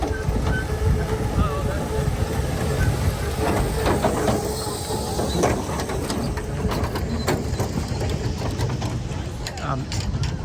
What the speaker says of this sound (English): Passing us now is the tram car.